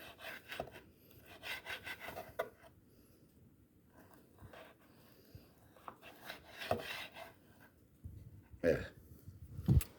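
Knife cutting through cured, aged meat on a board, giving soft scraping and rubbing strokes in an uneven rhythm, close and fairly quiet, with a few sharper knocks toward the end.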